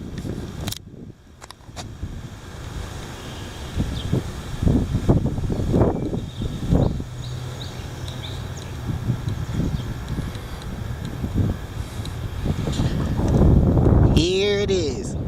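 Heavy wind rushes and gusts across the microphone in uneven surges, with a voice speaking briefly amid the blustery noise.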